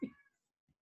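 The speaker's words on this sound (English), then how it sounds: "if you hear this cat that sounds like she's in distress" A domestic cat yowls close by in one short, loud, strained cry, then goes quiet and lets out a soft, brief grunt a moment later.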